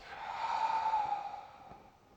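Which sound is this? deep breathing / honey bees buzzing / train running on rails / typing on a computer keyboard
deep breathing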